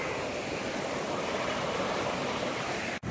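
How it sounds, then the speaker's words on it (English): Ocean waves at Zuma Beach in Malibu, a steady broadband wash of surf rolling in close by, unbroken and fairly soft, with a brief sharp knock near the end. "You probably hear the waves in the background."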